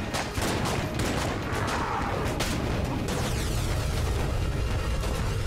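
Rapid, continuous gunfire from a gun in the video game Enter the Gungeon, a dense unbroken stream of shots held at steady loudness with no reload pauses.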